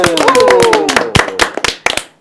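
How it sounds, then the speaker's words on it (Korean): A small group claps together in a burst of sharp, uneven claps, starting under a sustained tone and trailing into scattered individual claps. "우리 한번 힘내자는 의미에서 박수 한번 치고 예."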